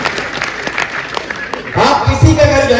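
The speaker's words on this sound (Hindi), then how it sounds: "ताली बजाओ, सांस लेना है।" Audience at a Hindi comedy poetry show (kavi sammelan) starts clapping partway through, rising into loud, dense applause from a crowd, with a voice talking over the start.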